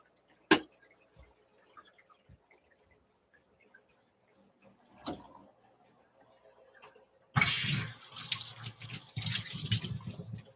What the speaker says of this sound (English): We need to get water in there now, so let's start getting filled up with the water.